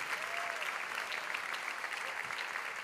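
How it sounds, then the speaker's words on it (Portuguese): Steady applause from a church congregation fills the space, dense and continuous clapping at moderate loudness. "Se você puder aplaudir mais uma vez a Deus pela vida do pastor Adson."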